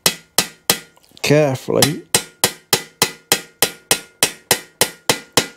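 A ball peen hammer taps out a dent in metal on a Suzuki GS custom build, worked over a leather bag: steady, evenly spaced ringing strikes, close and loud, briefly paused while someone speaks.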